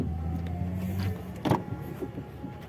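Electric power windows on a used automatic car with full center locking, power steering, AC, ABS and airbags run in a steady motor whine inside the cabin, with a brief thump midway and no talk.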